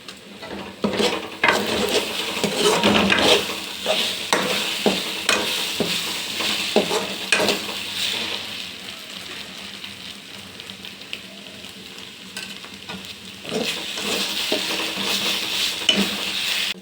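Drumstick leaves and other greens fry in a pan with chili powder while a spoon stirs them, making a continuous loud sizzle broken by repeated scraping and clinking of metal against the pan.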